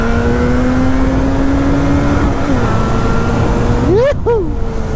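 An RD 350 two-stroke motorcycle engine drones steadily with a sustained buzzing pitch while riding, then gives a sharp quick rev blip near the end.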